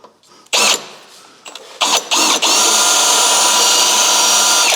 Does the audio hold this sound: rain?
no